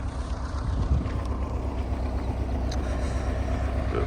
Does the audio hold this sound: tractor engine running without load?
yes